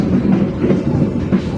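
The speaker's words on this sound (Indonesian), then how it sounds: "kereta api Pandanwangi ini merupakan kereta api yang melayani rute lokalan" Pandanwangi local passenger train on the Jember–Ketapang line, a loud continuous low rumble of the train in motion with a faint rhythmic pulsing, close and steady throughout.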